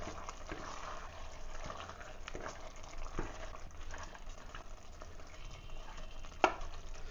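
A spoon scrapes and stirs a mutton biryani masala mixture of chilli powder and salt inside a pressure cooker, with soft sizzling and a sharp clink near the end, fairly quiet overall.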